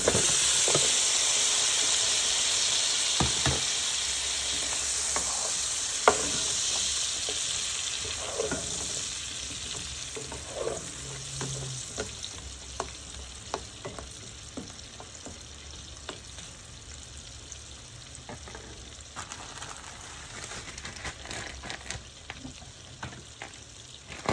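Cucumbers frying and being stirred in melted butter for a vegetable stir fry, giving a steady loud sizzle with scattered clicks and scrapes of the utensil throughout.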